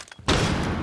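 A rapid burst of gunfire in a tactical shooter match on the Coastline map, loud and close, rolling into a sustained volley after a brief quiet moment.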